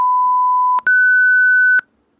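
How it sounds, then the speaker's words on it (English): A motherboard speaker sounds a CPU overheating alarm: two loud, steady electronic beeps of about a second each, the second slightly higher in pitch, with no other sound around them. "that alarm will be made by a speaker connected to your motherboard"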